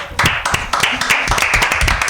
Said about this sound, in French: on applaudit. Bravo!